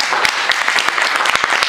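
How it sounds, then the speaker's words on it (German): Short burst of audience applause at a German comedy stage show, a dense, close wash of clapping with a few sharper individual claps standing out. "Ist doch ein bisschen Applaus wert"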